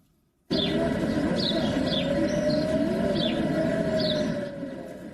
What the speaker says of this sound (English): Those are the sirens in Jerusalem